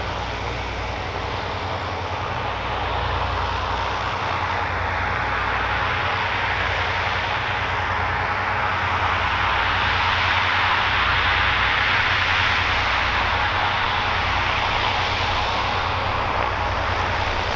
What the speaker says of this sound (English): The rear engine will throttle up.